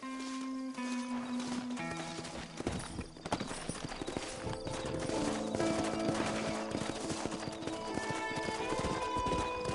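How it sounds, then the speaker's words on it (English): Horse hooves clip-clop in the Western video game Red Dead Redemption, a steady trotting rhythm under a game music score, with a neigh and distant gunfire mixed in. "Horses are over here!"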